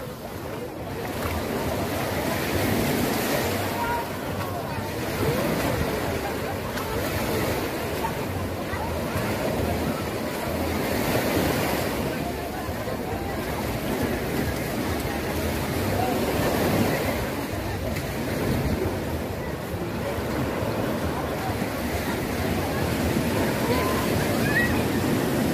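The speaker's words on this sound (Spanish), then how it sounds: "Miren, aquí las olas que... Las culpables," Ocean waves wash steadily onto Playa Las Gatas beach in Zihuatanejo, a continuous broad surf roar with wind buffeting the microphone, lasting throughout without clear talk.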